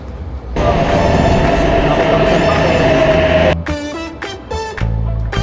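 A train rumbles loudly with a steady roar and faint squeal, then quietens into clanks and tones as it slows at Central station in Australia.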